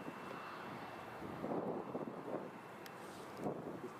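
An easyJet Airbus A320neo jet airliner at Edinburgh airport rumbles faintly in the distance, a low steady broadband roar mixed with wind noise on the microphone.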